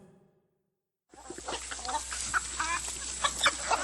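A brief quiet gap gives way to a flock of chickens clucking and murmuring near a henhouse, with overlapping short calls over a steady low hum, growing slightly busier toward the end.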